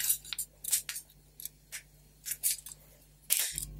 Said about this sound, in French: Et je viens agrafer pour fermer mon petit sachet.